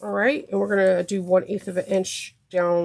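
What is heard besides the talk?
No everyday noises stand out.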